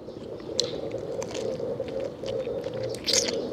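Close, wet chewing of a crisp raw vegetable with tough skin, sharp crunchy bites breaking through at irregular moments.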